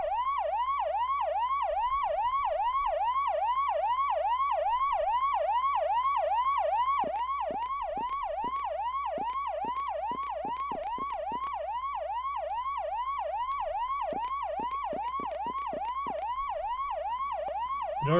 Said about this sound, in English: Police car siren is heard.